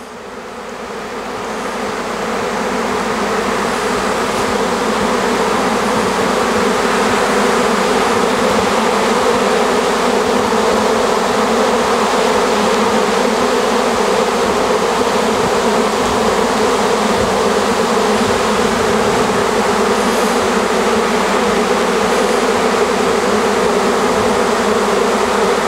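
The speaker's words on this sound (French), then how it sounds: "On voit l'essaim qui est en train de se repositionner sur une branche du pommier là." A honeybee swarm resettling on an apple tree branch fills the air with a loud, steady, continuous buzz that swells over the first few seconds and then holds unbroken throughout.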